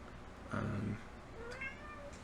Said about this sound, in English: And that is the cat.